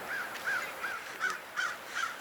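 A crow-like bird calls from a dam in Canada: six harsh, evenly spaced caws at moderate distance, each short and clear over quiet outdoor background, with no talking.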